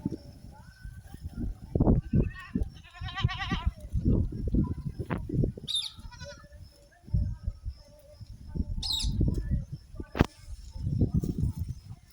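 Goats bleat repeatedly on a goat farm at evening time, several animals calling near and far over a steady low rumble of farm background noise.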